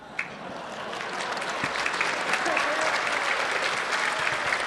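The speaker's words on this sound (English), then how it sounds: "how about with an applause?" Steady audience applause at a fan convention panel with John de Lancie at Las Pegasus Unicon 2017, building quickly after a single sharp clap and holding dense and loud.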